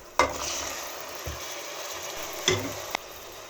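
Tomato sautéing in a pan while making lime pickle, a low steady sizzle punctuated by a few sharp utensil knocks and scrapes, close and quiet, no talk.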